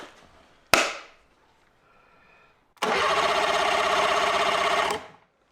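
An outboard boat engine is turned over: a sharp click, then a quiet pause, then a couple of seconds of loud, steady mechanical cranking that stops abruptly without catching.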